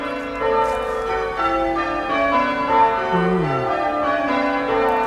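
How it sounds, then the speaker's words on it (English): Church bells ring out steadily in a peal for a wedding at St Mary's church in Arnold, with continuous overlapping tolls and sustained ringing tones, fairly loud and close, with no one speaking. "we're going to be greeted with the bells chiming because of a wedding"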